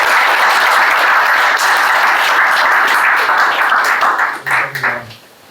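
Loud, dense applause from a church audience for a pastor's lecture, sustained hand clapping that thins and breaks off near the end as a few voices come in.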